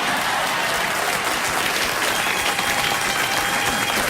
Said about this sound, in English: take that insult away and they give you a round of applause now